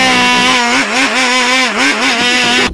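An electric mixer grinder chopping apple pieces runs loud and steady, its motor whine wavering in pitch as it labors and speeds up after being shaken.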